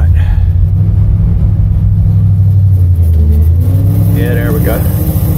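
A 1973 Ford F600 truck engine pulls off in first gear: a loud, close, deep rumbling drone that rises slightly in pitch as it labours, steady throughout, with a person talking briefly over it.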